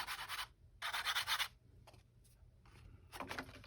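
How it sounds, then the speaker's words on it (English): Toothbrush bristles brush white embossing powder off a paper card in short, close, scratchy strokes, three longer bursts with a few quick flicks between them. "going to brush it off."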